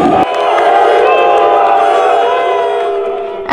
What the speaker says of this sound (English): A huge crowd comes out to cheer these champions on.